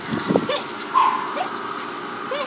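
A Walker hound whimpers and whines in high, thin bursts with a soft yip, close by, in a quiet outdoor setting with no one talking.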